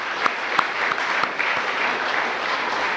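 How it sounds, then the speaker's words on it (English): Audience applause after a family dinner, steady dense clapping from a room of guests lasting the full three seconds at an even level, with a few sharper claps standing out. "So we'll give them a round of applause."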